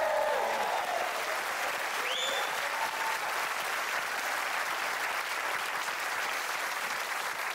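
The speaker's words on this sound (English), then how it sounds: "can you give a massive round of applause to the legend that is Chris Kamara?" An audience gives a big ovation for footballer-turned-presenter Chris Kamara, sustained dense clapping with a few cheers and whistles early on, steady and continuous throughout.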